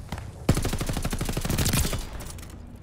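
A rapid automatic gun firing in a shooter game: one sustained, loud burst of closely spaced shots lasting about a second and a half, then trailing off.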